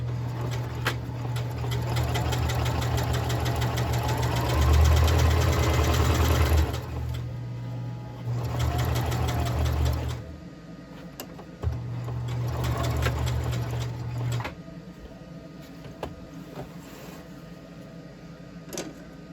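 A sewing machine runs a straight stitch across a fabric grow bag, giving loud rapid mechanical whirring in several long bursts separated by short pauses and quieter stretches.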